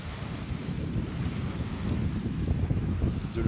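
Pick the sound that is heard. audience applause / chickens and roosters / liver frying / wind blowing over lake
wind blowing over lake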